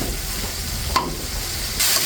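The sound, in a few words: stirring and frying spice paste in oil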